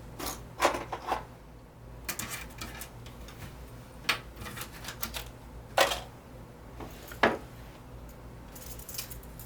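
Sewing clips snap onto bag fabric in a handful of sharp, separate clicks spread over several seconds, close and fairly quiet over a low room hum.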